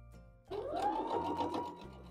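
Sewing machine stitching a tulip quilt block, starting suddenly and running steadily at a close, even hum with a rapid needle clatter for about a second and a half.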